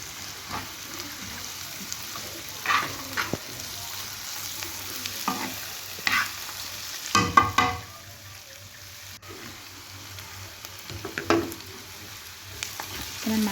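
Chicken shawarma pieces with spices, seven-spice blend and chicken seasoning sizzle in a pan as they are stirred, a steady frying hiss with intermittent scraping and clattering of the utensil.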